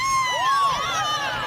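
Crowd at a Bernie Sanders rally in Ventura, California, cheering and whooping, with shrill rising and falling voices over a steady roar, loud and close.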